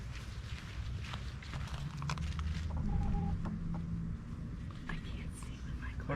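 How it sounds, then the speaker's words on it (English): Chickens cluck softly nearby while people talk in low, hushed voices and footsteps shuffle around. "These are our chickens."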